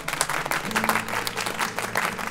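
Applause and clapping from a crowd in a children's cartoon scene, a steady dense patter of many hands that carries on without a break.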